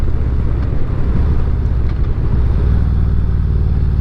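A stock Harley-Davidson ridden on a road, a continuous loud low engine rumble mixed with heavy wind buffeting at the microphone, steady throughout with no talk.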